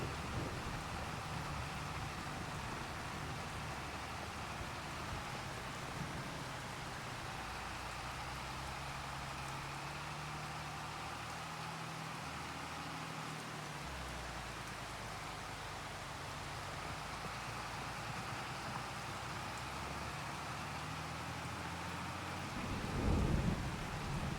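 Steady rain with rumbling thunder in a farming video game, a continuous dense hiss with low rolling rumbles underneath that swell louder near the end, no talking.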